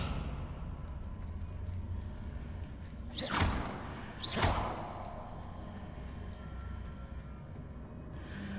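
The Descendo spell in Hogwarts Legacy slams down as two sharp whooshing impacts about a second apart, each a loud swish ending in a thud, over quiet background ambience.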